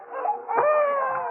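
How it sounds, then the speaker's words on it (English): A baby cries in a thin, wavering wail that rises and holds, fairly close and moderately loud, with no talk around it, as a sound effect in a radio drama. "Scott, you haven't got a baby in there"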